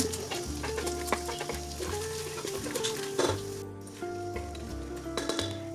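Cinnamon, cloves and bay leaf fry in hot oil inside a cooker, a steady sizzle broken by scraping stirs and light clinks against the metal, with low droning hum beneath and a faint bird call.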